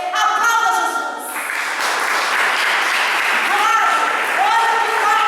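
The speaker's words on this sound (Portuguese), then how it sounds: "Aplauda Jesus." A church congregation breaks into sustained applause, a broad wash of clapping that rises after a short vocal or musical phrase at the start and carries on to the end.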